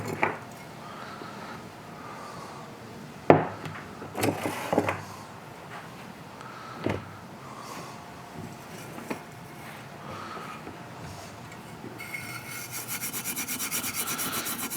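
Rubbing and wiping at a chromed Suzuki Bandit motorcycle part, a close, uneven scrubbing with a few sharper knocks and handling sounds, rising into a steadier hiss toward the end.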